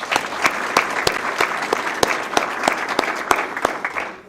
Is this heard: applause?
yes